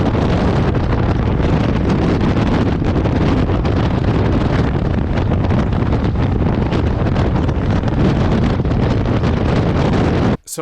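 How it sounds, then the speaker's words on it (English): Wind and road noise while riding an electric motorcycle, with no engine or exhaust sound: loud, continuous broadband buffeting that roars steadily for about ten seconds and then cuts off abruptly. "instead of hearing the engine or the noise on the exhaust, you hear the road and you hear wind."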